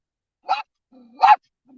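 A big dog gives two loud, sharp barks close by, spaced about a second apart, with a low growling whine between and after them.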